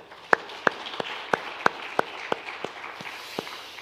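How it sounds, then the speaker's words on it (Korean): A church congregation claps in unison, producing sharp, evenly spaced claps about three per second that ring out clearly in the room and grow slightly ragged and softer toward the end. "우리 한번 박수할까요?"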